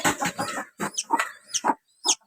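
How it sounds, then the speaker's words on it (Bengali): Hens and newly hatched chicks at a backyard poultry farm, close and alone: soft rhythmic clucking gives way to several sharp, high peeping calls in short separate bursts. "একটা মুরগির বাচ্চা তো বেরিয়ে গেছে।"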